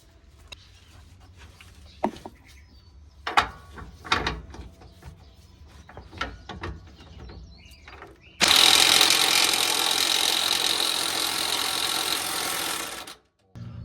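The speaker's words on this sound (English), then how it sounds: "we're gonna go ahead and loosen up our camber bolts here on our lower control arms with a 24mm socket and 24mm wrench" Work on lower control arm camber bolts with a 24mm socket and wrench: scattered metallic clanks and knocks, then a loud, sustained whirring tool burst lasting several seconds before it cuts off abruptly.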